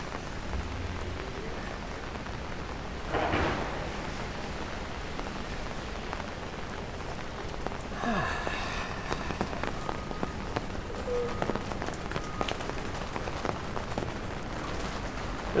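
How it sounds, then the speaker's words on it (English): Heavy rain pouring onto a Manhattan street, a steady close hiss and patter of drops spread over the whole stretch, with occasional faint city noises and no talk. "There's just a good downpour of rain."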